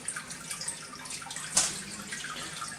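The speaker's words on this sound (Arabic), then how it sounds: "هون عندي فلتر مشان يضل عم بدور المي بفلترة" An aquarium filter circulates water in a crocodile tank, giving a steady soft trickle and gurgle with one brief splash partway through, close by and with no voices.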